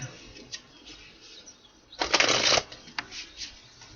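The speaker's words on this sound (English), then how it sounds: "Let's do one more shuffle, my guys." A deck of tarot cards is shuffled in one short, loud riffling burst midway, with softer scattered card flicks and taps before and after; no talking.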